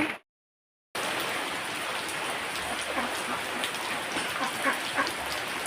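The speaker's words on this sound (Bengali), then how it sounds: "একটু বৃষ্টিটা কমুক" Steady, even rainfall pouring down in a dense hiss after a brief silent gap at the start, with scattered drops pattering nearby.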